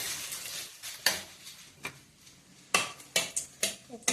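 A dried red chilli and bay leaf crackle faintly in hot oil, a soft hiss broken by sharp clinks and scrapes of a utensil against the pan.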